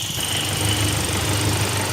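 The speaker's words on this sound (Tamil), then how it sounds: "Engine noise கேட்டுருவோமா?" A 2020 Hyundai Creta SX diesel SUV idling, a steady, even engine rumble with a faint rhythmic chatter, heard up close and alone without any voices.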